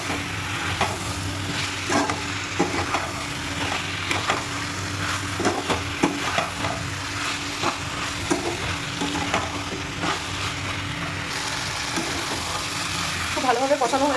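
Taro, Malabar spinach, tomato and coriander fry with spices in a pan, a soft continuous sizzle broken by repeated scraping stirs of a spatula, close up and without talk.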